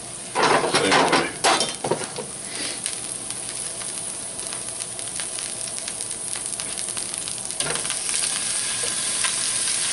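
Beef tips sear in hot olive oil in a pan, a steady close sizzle and crackle that swells loudly near the start and then holds at an even level.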